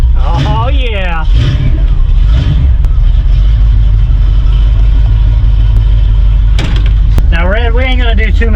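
A car engine idles with a loud, steady low rumble that runs continuously, with a voice speaking over it at the start and again near the end.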